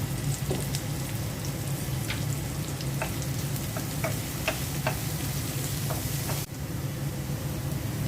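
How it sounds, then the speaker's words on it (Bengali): Onion and garlic fry in a pan with a little salt and cumin, giving a steady close sizzle with scattered light ticks from stirring, with no talking. "পেঁয়াজ রসুন ভাজা হয়ে গেছে"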